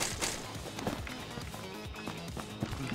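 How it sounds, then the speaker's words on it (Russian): Enemy footsteps running in PUBG, a fast, steady patter of quiet thuds repeating for several seconds amid faint game ambience. "В западном бегают, слышу."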